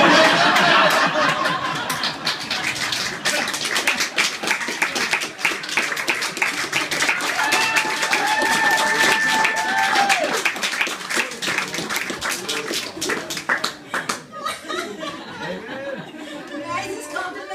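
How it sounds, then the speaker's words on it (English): Scattered clapping and chatter from a book-launch reading audience, mixed with chuckles and murmuring voices, fairly close and steady throughout. "I want to clap."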